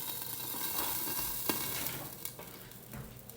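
Eggs frying in a metal ring on a Samsung induction range, a steady close sizzle with faint crackles and a couple of soft pan clicks.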